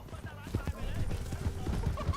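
Hooves of a horse in the Red Dead Redemption 2 video game, a rhythmic run of clip-clop beats under game music and shouted dialogue.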